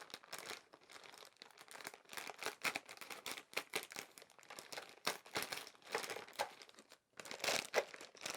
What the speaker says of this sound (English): Miss Porter's going to use scissors.